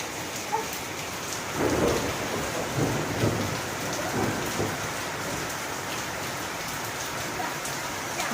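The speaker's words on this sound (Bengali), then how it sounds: "বৃষ্টির আওয়াজ শুনতেও খুব ভাল লাগে" Heavy, continuous rain pours down with a low rumble swelling early on, no voices.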